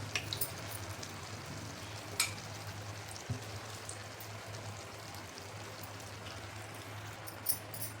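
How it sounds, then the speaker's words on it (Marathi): Malpua batter frying in oil over a low flame, a steady soft sizzle with faint crackles under a low hum, continuous and close throughout. "पलटून बघून सुरेख जाळी पडली. छान. एकदम लो फ्लेमवरती आपल्याला तळून घ्यायचं."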